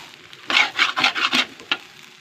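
Filipino garlic fried rice being stir-fried in a pan, with five or six quick scraping, rasping strokes of a spatula over a soft sizzle, close and fairly loud.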